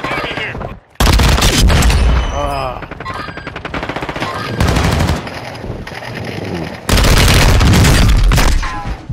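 Rapid pistol fire from dual pistols in Call of Duty: Warzone 2 crackles loudly in dense bursts separated by short gaps, with game sounds and an occasional voice underneath.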